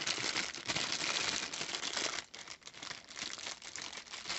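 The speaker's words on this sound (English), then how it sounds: "So it comes in a plastic bag." A plastic bag rustles and crinkles steadily as an Arory HD-21 red dot sight is unwrapped from it, a close, dense crackling that continues for several seconds with a brief lull midway.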